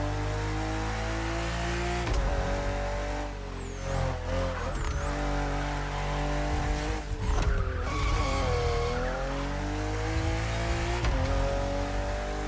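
A BMW CSL racing in The Crew Motorfest: a steady, loud engine drone with rising and falling revs across gear shifts and brief tire squeals, continuous throughout.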